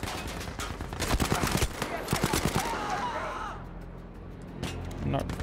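Gunfire in the shooter game Battlefield V, a dense burst of rapid shots for the first few seconds that fades out, then a couple of quieter later shots, with a voice talking over it.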